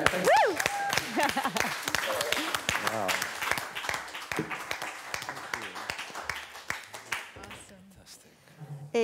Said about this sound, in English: Hand of applause for Merlijn Twaalfhoven.